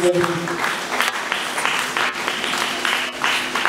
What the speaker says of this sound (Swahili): Hayo makofi ni ya mjumbe wewe pia Yesu.